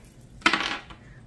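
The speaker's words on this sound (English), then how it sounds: "Let's roll just one die this time and see where we land." A single die is rolled: a sharp clattering hit followed by a brief rattling tumble that dies away quickly in quiet surroundings.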